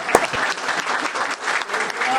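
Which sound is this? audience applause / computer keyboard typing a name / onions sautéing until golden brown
audience applause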